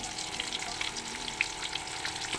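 Pieces of fish sizzle in hot oil in a home kitchen, a constant close frying hiss scattered with small pops and spits.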